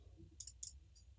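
A computer mouse gives a quick double click, two faint, sharp taps close together, followed by a fainter third tick, over quiet low room hum with no talking.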